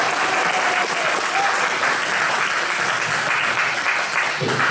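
Crowd clapping at a press conference in Bucharest, loud continuous applause throughout with a brief dip near the end, dense and close.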